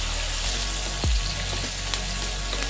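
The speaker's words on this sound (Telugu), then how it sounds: "ఇప్పుడు ఆనియన్స్ ఫ్రై అయితాయి కదా" Chopped onions fry in a pan with a steady sizzle and crackle, joined by a brief stir or scrape partway through.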